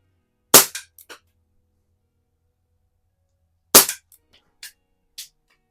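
Two sharp, close pops from a Dan Wesson Valor 1911 CO2 pellet pistol fired at a spinner plate, spaced about three seconds apart, each followed by faint metallic pings and small knocks.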